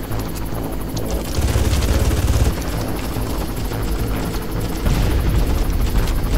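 A helicopter in the video game Far Cry 1 roars loud and close with a continuous rotor thump and whine throughout, with bursts of in-game gunfire mixed in.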